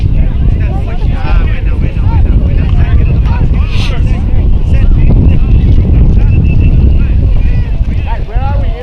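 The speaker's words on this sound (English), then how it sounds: "Henry, you feel the wind, right" Loud, steady wind buffets an outdoor youth soccer match, rumbling continuously across the whole stretch while children's voices and shouting carry over it.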